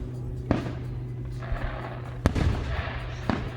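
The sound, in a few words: fireworks exploding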